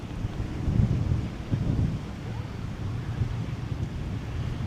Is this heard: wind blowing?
yes